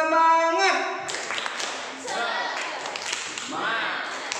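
A classroom performs the tepuk semangat spirit clap, a short rhythmic group clapping routine with patterned claps mixed with children's voices, following a teacher's sung or spoken cue at the start.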